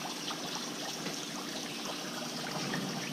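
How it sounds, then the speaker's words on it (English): Hot water poured from a glass onto dry ice, a steady trickling and gushing stream with bubbling fizz, continuous and moderately close, no voices. "Just put another glass of hot water in there."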